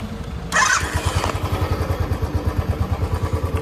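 A Royal Enfield Bullet motorcycle engine fires up with a brief burst of noise, then settles into a steady, rhythmic low thumping idle that stays close and prominent throughout.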